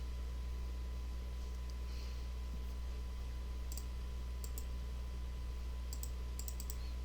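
A computer mouse clicks while the Adobe Illustrator pen tool is used, giving a few faint, sharp clicks in small clusters over a quiet steady hum.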